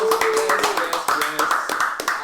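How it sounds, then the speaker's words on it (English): A short round of applause on a combat sports podcast, a few hands clapping in uneven bursts close to the mic, with talk mixed in. "Round of applause."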